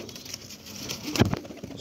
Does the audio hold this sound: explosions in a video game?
no